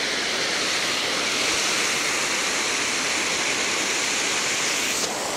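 A waterfall roars steadily nearby as a loud, unbroken rush of falling water, with no talk over it.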